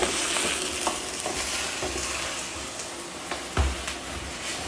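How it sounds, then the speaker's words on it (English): Roasted chicken bones and wing tips being stirred in a stock pot give a continuous wet sizzle with scraping and knocking, including one louder clunk near the end, and no voices. "I'm just going to give that a mix up."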